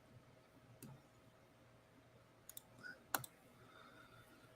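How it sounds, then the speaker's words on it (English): Fingers typing on a phone in a quiet room, a few sparse, faint taps and clicks separated by pauses, with one sharper click near the end. "typing on the phone, not always easy"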